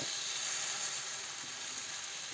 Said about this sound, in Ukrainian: І так ми посмажимо всі